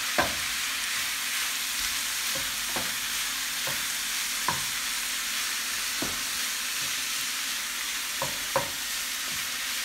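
Mince and carrot frying in a pan, a steady close sizzle broken by irregular clicks and scrapes of stirring, with no talking.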